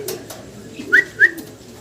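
A pair of German Beauty Homer pigeons gives two short, close coos a moment apart over quiet room noise.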